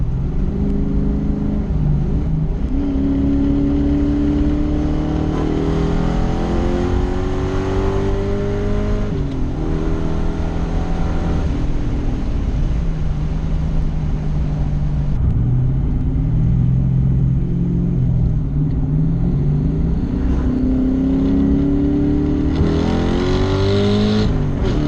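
An SN95 Ford Mustang with a carbureted V8 and upgraded heads, cam and intake revs loudly and close for about twenty-five seconds, its deep rumble rising and falling through repeated throttle blips without any voices.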